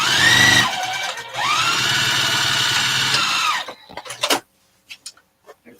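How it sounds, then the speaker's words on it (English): A sewing machine stitches a fat quarter project bag lining in two bursts of fast, whirring runs, then stops, followed by a few faint clicks and handling sounds. "So we'll just carry on sewing this."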